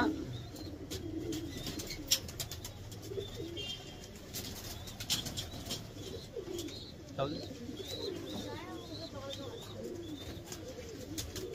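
Pigeons coo repeatedly in a soft, rhythmic pattern at close to moderate distance, with faint chirps and a little wing flapping mixed in over steady background noise.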